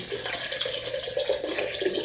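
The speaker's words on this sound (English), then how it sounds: "The water, so we're going to do 2 cups of water" Water pouring steadily into a container while making a gut-friendly drink, a continuous close splashing stream with slight bubbling over its length.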